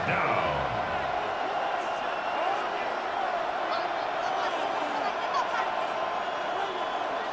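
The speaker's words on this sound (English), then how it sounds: "this crowd doing their best to make a lot of racket." A crowd in a stadium for a simulated American football game in Madden 26 roars as a steady, loud wash of noise throughout, with play-by-play commentary layered over it.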